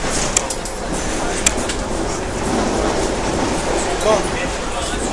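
Passenger train on the Linha Turquesa heading toward São Paulo, running on rails with a continuous loud rumble and clickety-clack heard from on board, a few sharp clanks near the start.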